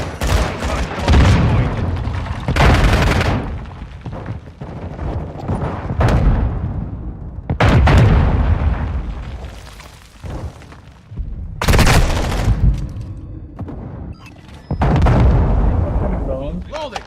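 Mortar strikes explode in the Modern Warfare II video game as a series of loud, heavy booms and rumbling blasts that repeat every few seconds, with game voice callouts mixed in.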